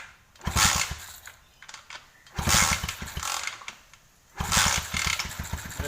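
A cheap used pit bike with a broken throttle cable is kick-started with the choke on: three loud kick-over bursts of rapid engine firing, each with a sputtering low thump, separated by short pauses, with no voices.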